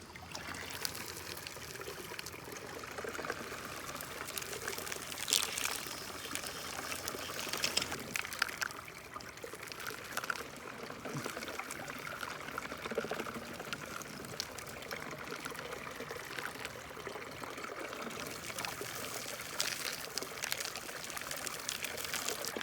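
Water pours and trickles steadily from a SEAFLO 3700 GPH bilge pump feeding a gold dredge in a creek, a continuous splashing flow of moderate loudness with no talk.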